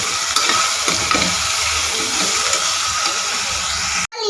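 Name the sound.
sautéing spices with salt and turmeric in a pan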